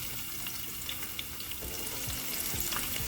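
Steady sizzling of peppers and shallots frying in a pan over medium-low heat, with a few soft crackles and clinks, continuous and close, no talking.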